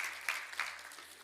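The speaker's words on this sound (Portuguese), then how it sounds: "Celebre e dê um aplauso bem forte ao Senhor." A church congregation applauds, a sustained wash of clapping with a couple of louder swells, heard at moderate distance.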